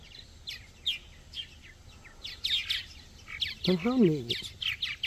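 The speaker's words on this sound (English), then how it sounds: "There's a couple of birds on a wire." Small birds perched on a wire at the Woodlands Nature Station in Cadiz, Kentucky, giving repeated thin high chirps through the scene, with a brief nasal call and a person speaking briefly.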